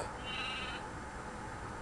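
Brief sheep bleat from a toy game, a single short call lasting under a second over a hissy background, fairly faint.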